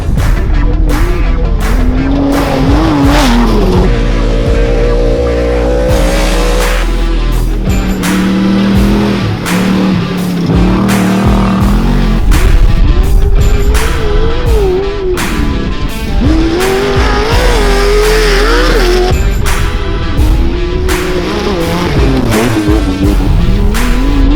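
Off-road race cars at the Kalgoorlie Desert Race, loud engines roaring and revving as they pass close, with shifting pitch, gear changes and overlapping vehicles throughout.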